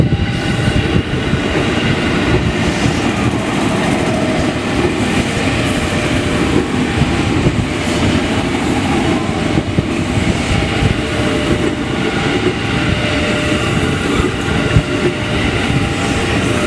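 A KRL JR205 electric commuter train of 12 cars rolls by nearby at Bekasi station toward Cikarang, a loud, sustained rumble with faint rhythmic clatter from the wheels on the rails.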